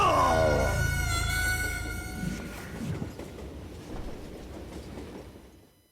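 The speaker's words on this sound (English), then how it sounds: "It was definitely safer on the inside of the train." Train in the Western video game Call of Juarez: Gunslinger rolling along the rails, opening with a bright whistle-like horn tone that fades into a steady low rumble of wheels on track.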